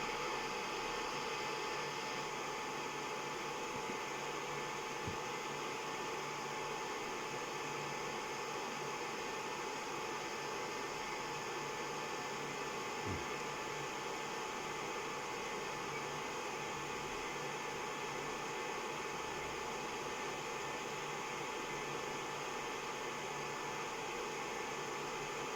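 Heaters of an LY G720 BGA rework station running through a lead-free chip removal cycle, giving a steady, moderately loud broadband hiss and whir with a faint tonal hum, unbroken and without talk.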